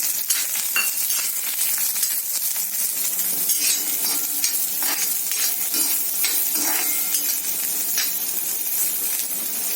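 Chopped onion fries and sizzles steadily in a pan for a cashew curry, with a spoon scraping and stirring in irregular strokes; close, constant hiss and no voices.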